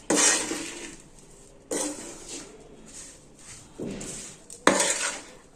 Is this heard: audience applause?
no